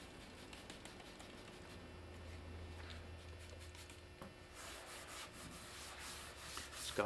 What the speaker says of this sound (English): Scotch-Brite's going to remove any type of residue that's left behind